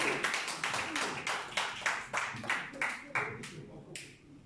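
Press conference audience clapping in a sparse, uneven rhythm, about a dozen distinct claps spaced across the moment, close and moderately loud with a faint background murmur.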